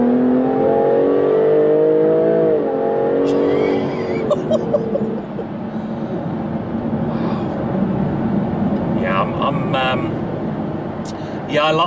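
A 2016 Jaguar F-Type S Coupe with a 380 bhp supercharged V6 accelerates hard, its engine note climbing steadily before easing off into road noise, with a person talking over it.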